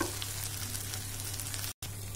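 Okra fries and sizzles in a pan with garam masala, a steady close hiss with faint stirring under a low hum, cut by a brief dropout near the end.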